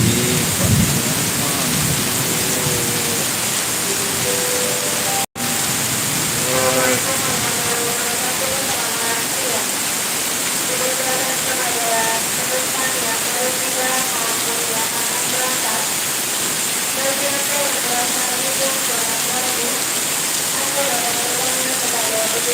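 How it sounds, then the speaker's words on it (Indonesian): Heavy rain pours down steadily and loudly, with rumbling thunder early on, while a person speaks over the downpour throughout. "Hujan bosku."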